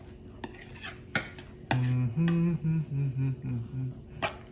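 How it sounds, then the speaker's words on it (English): Spoon clinks and scrapes against a bowl while red marshmallows are stirred, sharp clicks and taps scattered among steadier scraping strokes, close by. "So you go ahead, stir as much as you want"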